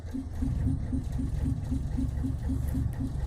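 A Bedford 300 cubic inch dual-fuel bus engine running on LPG and petrol idles steadily with an even, regular low pulse and no talk over it.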